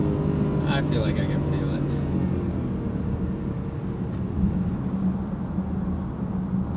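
Car engine revving hard and bouncing off the rev limiter, a steady loud drone with a slight surge, while someone talks over it.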